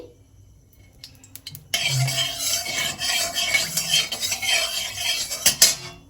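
Semolina is fried in ghee for upma, starting near silence, then a spoon stirs and scrapes briskly against the pan with a faint sizzle beneath and sharp metallic clinks near the end.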